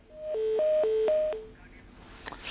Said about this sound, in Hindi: लगता है टेलीफोन नरेश अग्रवाल ने काट दिया।